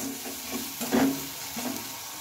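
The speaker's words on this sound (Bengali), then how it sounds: "এবার এটা ভালোভাবে কষিয়ে নিতে হবে" A ground paste of chilli, coriander and garlic is sautéed in a pan, making a soft, close sizzle broken by a few scraping stirs.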